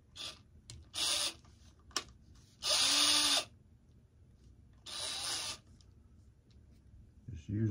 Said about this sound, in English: Using a small drill bit.